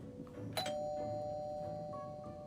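A doorbell rings inside the Reverse: 1999 video game, one clear ding-dong chime struck near the start and ringing out with a long sustained tone, followed by a fainter second chime, over a soft game background.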